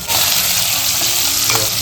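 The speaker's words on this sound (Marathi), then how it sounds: "राई जिरा मेथीचे दाणे मिरची कढीपत्ता आणि वरून कांदा घातला आणि आता चांगला मस्त फोडणी तयार होते" Onion with mustard seeds, cumin, fenugreek seeds, chili and curry leaves sizzles steadily in hot oil for a tempering, a loud, continuous crackling hiss with faint stirring and no voices.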